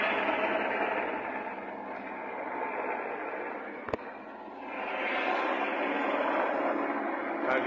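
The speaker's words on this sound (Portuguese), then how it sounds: "mostram um helicóptero da Polícia Civil sobrevoando a região" A Civil Police helicopter drones overhead above a favela during a shootout in Rio de Janeiro's West Zone, in a steady, broad rumble, swelling slightly, with a sharp crack partway through.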